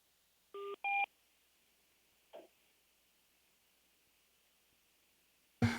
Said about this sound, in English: our chairman's having a little trouble dialing in